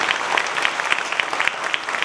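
Steady applause from a crowd at an outdoor gospel healing program, dense rhythmic clapping filling the whole stretch with no break, fairly loud and close.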